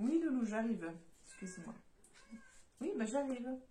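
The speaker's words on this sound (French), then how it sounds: "c'est le chat de la rue dont je m'occupe qui voulait ressortir." A street cat meows insistently indoors, wanting to be let back out, its cries mixed in with someone talking in French nearby.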